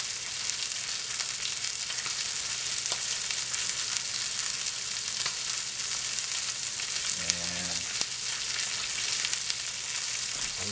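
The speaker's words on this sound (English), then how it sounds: "I'm going to layer the bottom of my pan with these onions" Thick-sliced onions sizzle steadily as they fry in a pan, a loud continuous crackle with a brief clatter of stirring or handling partway through; no one speaks.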